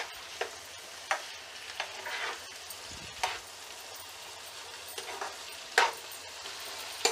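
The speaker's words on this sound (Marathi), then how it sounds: "आणि आता हा जो कांदा आहे तो आपल्याला छानपैकी फ्राय करून घ्यायचा आहे." Onions fry in a pan for a home-style onion sabji, a steady hiss of sizzling broken by occasional spatula scrapes and stirring clatters, close and moderately loud.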